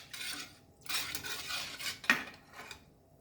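A spoon scrapes and clinks against a pan as a Goan milk cream mixture is stirred over a low flame, quiet scraping strokes broken by one sharp metallic tap.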